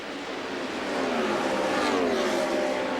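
IndyCar race cars at speed during the 1999 IRL TransWorld Diversified Services Indy 200, a loud sustained high-pitched engine roar that swells slightly as a car passes.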